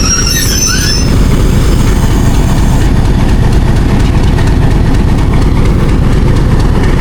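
Locomotive 8045 hauls the Thal Express through Taxila Cantt junction, a loud, close, steady rumble of wheels and engine with high squealing tones early that fade after a few seconds, continuous throughout.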